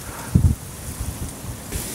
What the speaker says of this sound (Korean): 바람이 지금 굉장합니다.